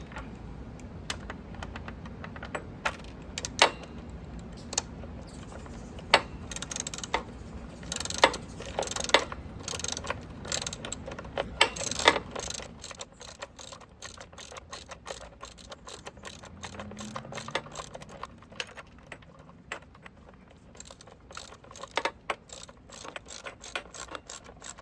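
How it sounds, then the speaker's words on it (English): Ratcheting clicks of a socket wrench tightening a small bolt on a bicycle battery lock kit, a steady run of close, crisp clicks and mechanical ticks, busier in the first half and thinning out later, with no talking. "now we're gonna tighten it up using the 10mm wrench and the socket wrench"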